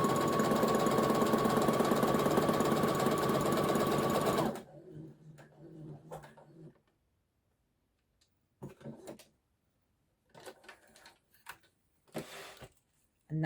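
A sewing machine stitches a seam through fabric, running steadily and loudly for about four seconds before stopping, followed by brief scattered handling sounds and short bursts of quiet noise.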